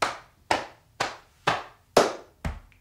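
Six sharp hand claps in a steady, even rhythm about half a second apart, close and distinct, played as part of a body percussion rhythm exercise with alternating hands.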